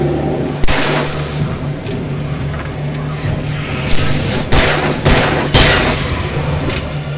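Loud shotgun blasts in the video game Alan Wake, several booming shots spaced irregularly over a steady ambient game drone, with sharp transients standing out near and punchy.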